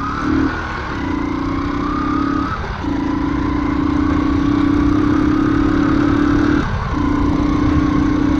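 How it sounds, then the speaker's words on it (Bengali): Kawasaki 80cc and Yamaha FZS V2 motorcycle engines idle close by, giving a steady, even drone with a couple of brief dips and no voices. "আমার এই কাওয়াসাকি 80cc বাইক আর এই যে ইয়ামাহা এফজেডএস V2"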